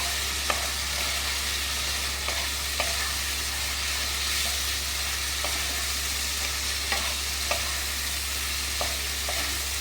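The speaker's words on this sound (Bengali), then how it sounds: "আর এক চামচ কাশ্মীরি লাল লঙ্কা গুঁড়ো দিলাম দিয়ে ভালো করে কষিয়ে নেব" Turmeric and Kashmiri chilli powder sauté in a pan under a steady, loud frying hiss, with occasional faint stirring clicks and no voices.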